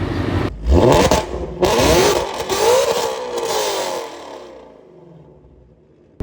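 A Shelby GT350 V8 fitted with Kooks headers and an X-pipe revs hard in several loud rising bursts, then its roar fades away to near quiet.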